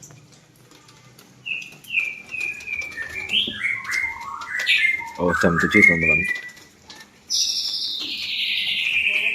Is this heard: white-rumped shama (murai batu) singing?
yes